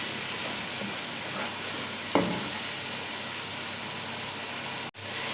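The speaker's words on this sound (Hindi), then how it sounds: "अब चम्मच चलाएं ताकि हमारे जो टमाटर हैं वो गल जाएं।" Tomatoes with salt and spices fry in a pan for aloo gobi while a spoon stirs them, a steady close sizzle with a brief scraping clack midway and a short cut near the end.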